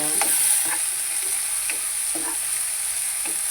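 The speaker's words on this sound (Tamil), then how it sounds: "ரெண்டு வெங்காயம் தக்காளி போட்டு ஆயா கருவாட்டு குழம்பு வச்சுக்கிட்டு இருக்கேன்" Dried fish curry with onions and tomatoes frying in a pan, a steady loud sizzle with a spoon scraping and stirring in a few separate strokes, close up.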